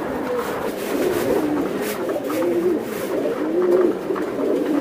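Racing pigeon youngsters coo in a loft, a continuous overlapping chorus of soft rolling throaty calls, close and steady throughout with no talk.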